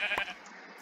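Single short sheep bleat from a Minecraft sheep in a vanilla survival game, fairly quiet, followed by a soft fading tail; no talking.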